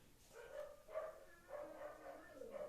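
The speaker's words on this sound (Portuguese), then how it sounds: "E aí o cachorro do vizinho resolveu começar a latir." A neighbour's dog barks in a series of distinct, fairly close barks spaced across the moment, with no voices over them.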